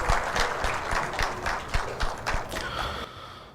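Sparse, uneven clapping from an audience at an event launch in Karachi, with separate claps standing out in a loose rhythm over low room noise.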